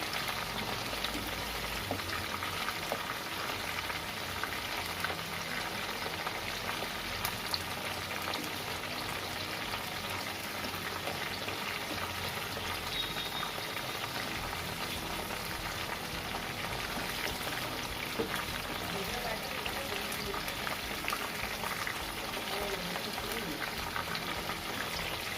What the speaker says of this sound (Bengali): লাল লাল করে ভালো করে ক্রিস্পি করে ভেজে নেব।